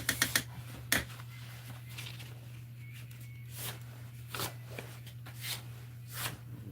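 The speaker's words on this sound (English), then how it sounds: "Working on sanding some handle scales." Paper micarta knife handle scales with pink G10 liners being hand-sanded on 600-grit paper, giving soft rhythmic scratchy strokes, fairly quiet and close, with a steady low hum underneath and no talking.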